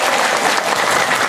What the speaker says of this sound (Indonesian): berikan semangat tepuk tangan untuk semua para panitia